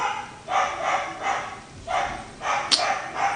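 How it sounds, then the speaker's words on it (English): Dogs bark at the mailman indoors, a series of loud, close barks in uneven bursts with short gaps between them. "Sorry for my dogs barking."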